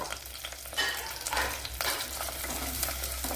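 Garlic cloves and green chillies sizzle and crackle in hot oil in a pan, a dense steady frying hiss broken by scraping stirs, close and loud with no voices.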